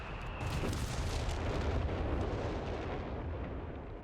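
An artillery barrage fires in the Company of Heroes 3 war game as dense rolling booms and blasts that blur into a continuous loud rumble lasting the whole stretch, with no voices.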